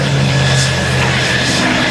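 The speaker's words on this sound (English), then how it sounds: "Let's take a look as Dale Snodgrass works his way across the show line and goes into a beautiful barrel roll" Propeller-driven airplane flown by Dale Snodgrass through a barrel roll along the show line at a military air show, a steady, loud engine drone that holds level throughout with no talk.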